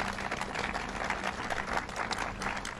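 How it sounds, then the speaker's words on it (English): A crowd at a public announcement event claps in a continuous, fairly quiet patter, heard from a distance without any talking over it. "Let's give him a round of applause."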